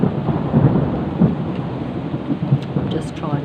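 A suburban thunderstorm brings steady heavy rain with rolling rumbles of thunder, a dense continuous wash close by, and a few faint high chirps near the end.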